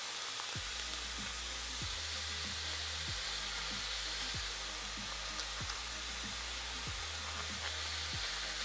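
Ground beef, about three and a half pounds, fries in a pan for spaghetti sauce with a loud, steady sizzle and hiss, while a low hum and periodic soft knocks run beneath it.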